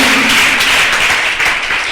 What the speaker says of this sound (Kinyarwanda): mukomere Imana amashyi cyane